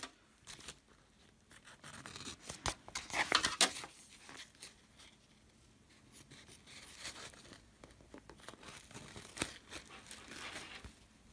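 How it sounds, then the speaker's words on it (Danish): Scissors snip through Aquamagic Plus water-soluble embroidery stabilizer, producing close, crisp cutting and rustling sounds in uneven bursts with quieter gaps between. "Klipper jeg lige af, det er sådan lidt sejt, det her Aquamagic Plus"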